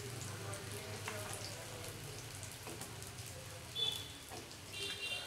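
Homemade vegetable chops frying in oil, a steady crackling sizzle with a rain-like hiss that continues evenly throughout, moderately loud and close, with a brief louder burst partway through.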